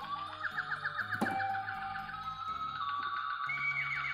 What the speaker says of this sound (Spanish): hace ruido de vaca